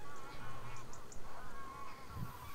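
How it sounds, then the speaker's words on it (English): Geese flying off into the distance honk repeatedly in short calls over a soft airy background, moderately distant and fairly faint, at the Ouse Washes. "Some geese flying off into the distance there."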